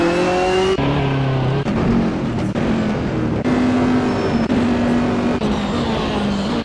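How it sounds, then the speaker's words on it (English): A BMW race car at Spa in a video game roars continuously, its engine pitch climbing and dropping with gear shifts and revs, loud and close throughout. "John Ludden driving that BMW."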